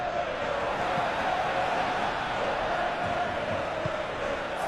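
Stadium crowd roars steadily throughout a World Cup football video game match, a dense, continuous wall of cheering and chanting at constant loudness with no distinct voices standing out.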